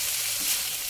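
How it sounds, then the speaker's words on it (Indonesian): Shredded chicken frying in a pan for a crispy fried wonton filling, a close, steady hissing sizzle that stays even throughout the short moment with no talk. "Kita masak sebentar ya hingga semuanya itu tercampur merata."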